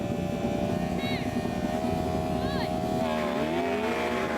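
Yamaha R1M superbike, Porsche Taycan Turbo GT and Ferrari SF90 launching in a dry-track drag race, a loud sustained engine and drivetrain roar with rising whine and shifting pitch sweeps, voices faintly mixed in.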